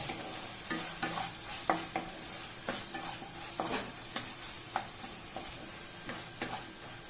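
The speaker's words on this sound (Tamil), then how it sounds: "வெங்காயம் தக்காளி நல்லா வதங்கிடுச்சு." Onion and tomato sauté in a pan for sambar as a spoon stirs them, giving repeated scraping strokes in a loose rhythm over a faint, steady sizzle, quiet and close with no voices.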